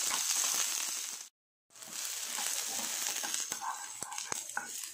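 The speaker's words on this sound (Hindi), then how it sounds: "इसी पैन में थोड़ा सा तेल गरम कर लें, 2 मीडियम साइज की कटी हुई प्याज डाल के फ्राई कर लें" Chopped onions fry in hot oil in a pan, a close, busy crackle and sizzle with occasional stirring clicks and a brief moment of silence early on.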